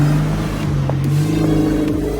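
A modified 2014 Volkswagen GTI with a DSG gearbox, its engine droning and revving steadily at close range with a rising and falling pitch and a low rumble, with no talking.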